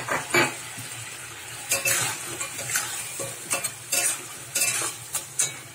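Fried crabs are stirred into a simmering, reduced curry, with a spatula scraping and clinking against the pan in irregular bursts over a faint sizzle.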